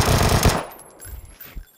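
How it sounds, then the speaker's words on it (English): Rapid bursts of SKS rifle fire in a video game, a loud dense volley up front followed by a few quieter, scattered shots. "He was shooting at you with an SKS."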